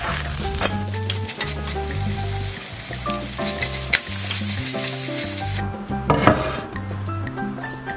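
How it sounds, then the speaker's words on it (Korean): Sugar-sprinkled bread toasting in a pan, a constant crackling sizzle with scraping and shuffling noises as it is moved, one louder burst near the end; no voices. "이제 맛있게 구워볼게요. 여기에도 설탕을 앞뒤로 솔솔 뿌려주면 완성!"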